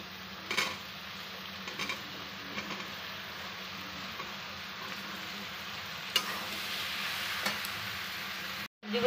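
Vegetables tossed into a hot pan for sambar dal give a steady sizzle and frying hiss throughout, with occasional stirring clatter and a brief dropout near the end; no talking.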